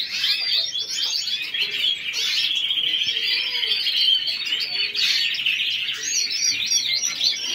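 Many small birds sing and chirp continuously in an aviary of males and females, a dense, steady chorus of bright tweets with no pauses, close and fairly loud.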